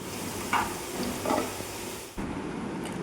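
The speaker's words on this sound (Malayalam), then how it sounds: "എന്നിട്ട് ഹൈ ഫ്ലെയിമിൽ വെച്ച് നല്ല പോലെ ഒന്ന് മിക്സ് ആക്കുക" Brinjal mixture stir-fried on high flame in a pan for a Kerala-style mezhukkupuratti; a steady sizzle with two scraping stirs early on and a sharp knock of the spoon partway through, no speech.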